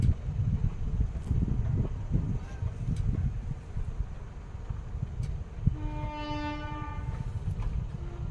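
A train rumbles steadily along the tracks with a low, rough roar, and a drawn-out horn sounds near the end.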